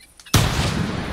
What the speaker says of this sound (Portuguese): Um tiro de coração nesse sem vergonha.